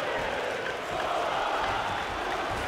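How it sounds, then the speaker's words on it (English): A UFC 3 video game arena crowd roars in a dense, continuous wash of voices, steady and loud throughout the short stretch, with no distinct commentary over it. "The Brazilians in the crowd start their chant"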